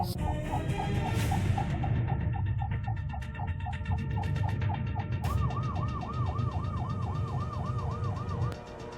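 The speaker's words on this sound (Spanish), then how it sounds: "Así es la actitud hacia la ambulancia." A siren cycles continuously over heavy traffic noise, shifting partway through to a faster rising-and-falling wail before cutting off near the end.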